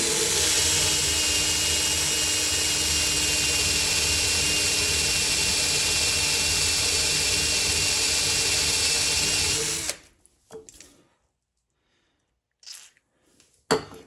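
A power drill bores a bit about 20 millimetres into a motor shaft for a potentiometer connection on a motion simulator platform. The whine is loud and steady for about ten seconds, then cuts off, leaving a few faint knocks and handling sounds.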